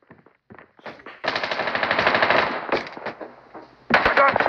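Rapid automatic gunfire from a Call of Duty multiplayer match rattles in sustained loud bursts, with a brief pause before another burst starts.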